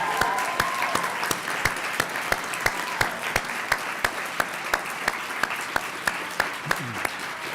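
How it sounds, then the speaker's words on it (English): A graduation ceremony audience applauds steadily, with dense, continuous clapping and sharp individual claps standing out near the front, sustained and loud for the whole stretch with no speech. "let's take a moment to give ourselves a really big applause for congratulations"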